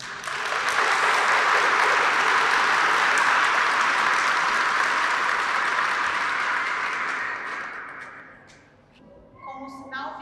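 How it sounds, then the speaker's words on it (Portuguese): Wedding guests in Brazil applaud the newly married couple, a loud, steady wash of clapping that fills the room for several seconds before fading out as a voice begins speaking. "Gilson e Graziele já estão casados, saudados com as nossas palmas."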